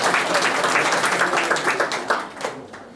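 An audience at a poetry book launch applauds for a birthday greeting, a dense wash of clapping held steady for about two and a half seconds before thinning out at the end.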